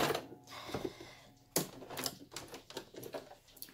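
A sewing machine double stitches a cushion cover made from dish towels, giving close, uneven bursts of mechanical clatter and needle tapping with brief pauses between runs.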